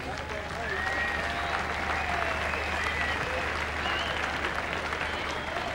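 Crowd applause at a 2001 State of Origin legends charity event, steady dense clapping filling the whole stretch at moderate distance, with faint cheering and voices mixed into the wash.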